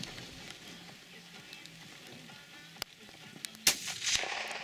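Rifle shots fired at a roe buck on a hunt in Poland, two sharp cracks heard outdoors against quiet background noise, the second louder with a short echoing tail.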